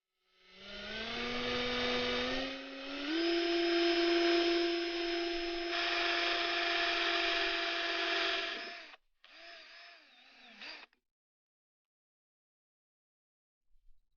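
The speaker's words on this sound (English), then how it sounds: "so then that's where I'm going to drill" A power drill whirs up to a high steady whine for several seconds, stops, gives a shorter second burst, then falls silent, drilling guide holes for a bracket while installing an Abarth catch can.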